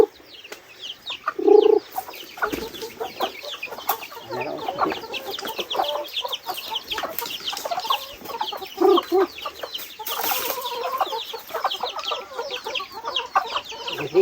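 Chickens cluck and chatter nearby in a farmyard, busy overlapping calls with occasional louder squawks, steady throughout with faint background noise.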